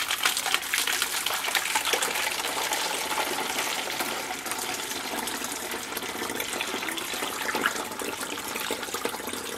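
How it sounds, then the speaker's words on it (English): Bleach poured through a funnel into a container, a steady rushing, gurgling stream of liquid that runs continuously at close range with no talk. "hold the funnel in place and carefully pour the bleach inside of the funnel to your mark that you made."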